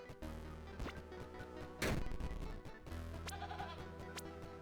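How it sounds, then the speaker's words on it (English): Goat bleating in the video game Tiny Rogues, a couple of clear bleats over game music and sound effects, with a sharp crash-like hit in the middle. "There's our goat."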